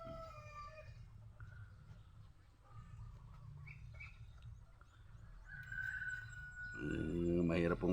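Chickens on a farm cluck and a rooster crows nearby among hens that are laying eggs, with a louder burst of crowing and squawking near the end over steady background noise.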